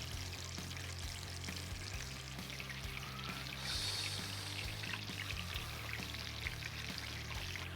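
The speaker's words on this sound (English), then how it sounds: "Shallow fry. Doesn't look like it, that is under fucking oil. It looks like a deep fry. It's a great noise." Chicken shallow frying in oil crackles and sizzles continuously, with a brief stronger hiss partway through and no voices.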